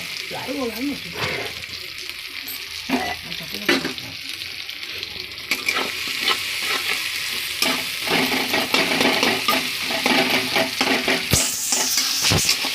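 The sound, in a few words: tomatoes frying in a pan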